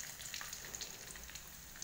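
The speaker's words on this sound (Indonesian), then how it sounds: "Lanjut goreng bawang putih dan bawang merahnya sampai wangi teman-teman." Garlic and shallots frying in a pan give a steady, soft sizzle with light crackling pops throughout, close by and fairly quiet, with no one talking.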